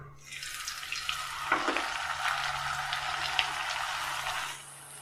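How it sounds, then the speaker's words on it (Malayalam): Puris go into hot oil and set off a bright, crackling deep-fry sizzle that rises quickly and holds steady for several seconds before easing off at the end, with no voices. "ഞാനിതാ ബൂരി പൊരിക്കാനായിട്ട് ഒരല്പം എണ്ണയാണ് നമ്മൾ ചൂടാവാനായിട്ട് വെച്ചിട്ടുള്ളത്"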